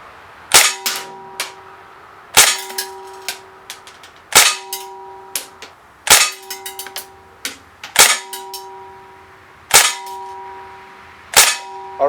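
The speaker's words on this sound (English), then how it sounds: "We're going to do 8 shots first and see how we do." An Umarex EBOS CO2 BB machine gun fires single shots, seven or eight sharp, loud cracks each with a ringing metallic tail, spaced about one and a half to two seconds apart, with a few faint clicks between.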